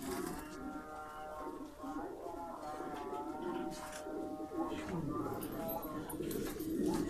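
Pigeons cooing on a pigeon farm, a steady chorus of overlapping low coos and bird calls filling the background, with some voices and other farm animal sounds mixed in.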